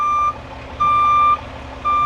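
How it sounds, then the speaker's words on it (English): A truck backing up under a winter road spreader sounds loud, evenly spaced electronic reversing beeps, each a long steady tone, over a low engine idle. "So she's gonna back up using a spotter."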